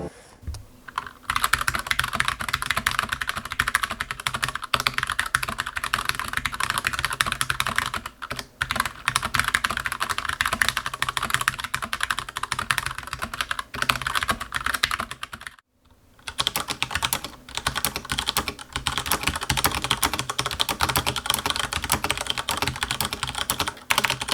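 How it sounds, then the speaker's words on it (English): Continuous clacky typing on a GMMK White Ice Edition mechanical keyboard with improved stabilizer bars, fast and steady keystrokes close up, with a couple of brief pauses. "better improved stabilizer bar for the GMMK, which means it's time for a sound test"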